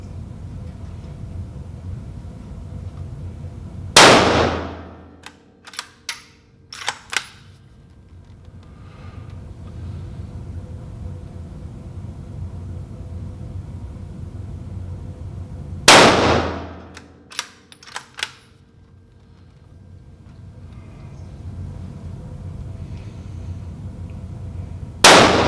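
A Ruger American .243 rifle fires three loud, sharp shots spaced roughly twelve seconds apart, each followed by a decaying echo and a few small clicks of the bolt being worked.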